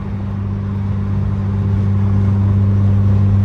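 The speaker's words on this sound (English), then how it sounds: "It's like so much fun just hearing the RPMs just go up" An Acura RSX fitted with a Hybrid Racing air intake runs with a steady, close, humming engine drone that holds fairly even throughout, with no voices.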